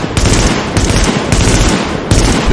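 Automatic weapon firing in The Division shooter game, loud continuous bursts with a few brief breaks, dense rapid shots filling the whole clip, no voices.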